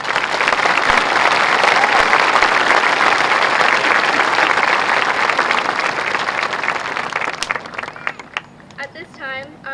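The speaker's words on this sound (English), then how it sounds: "Let's have a round of applause for all that we have accomplished this year." High school graduation crowd applauding, a dense, loud wash of many hands clapping that holds steady for several seconds before thinning out into scattered claps at the end.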